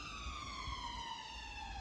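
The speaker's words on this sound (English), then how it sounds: "Just let that siren pass." An emergency vehicle siren wails steadily at a distance, its tone gliding slowly downward as it passes, faint and alone without talk.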